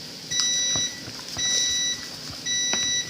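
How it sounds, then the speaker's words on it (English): Kitchen timer beeping while steak cooks, three evenly spaced bursts of rapid high-pitched electronic beeps over faint background clatter. "turning off the timer"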